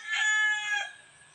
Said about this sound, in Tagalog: Pero grabe po kailang mga tilaok yun.